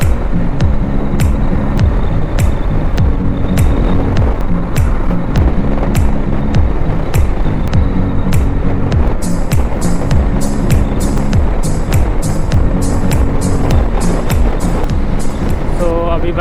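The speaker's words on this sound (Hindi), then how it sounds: "अभी आराम से 80-90 पे क्रूज करते हुए जा रहे हैं।" Car cruising at 80-90 km/h on a smooth expressway on a hot morning, with steady loud road and engine drone throughout, repeated sharp clicks or bumps, and occasional voices under the hum.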